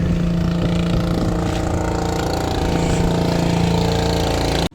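A steady, chugging fishing boat engine runs continuously near the listener off an island in Hagonoy, Philippines, a low droning rumble that holds constant until it cuts off abruptly at the end.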